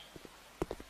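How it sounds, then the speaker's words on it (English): Footsteps in the video game Eggs for Bart, a few soft thuds heard faintly, then two or three louder steps close by, alone without talk. "I hear footsteps."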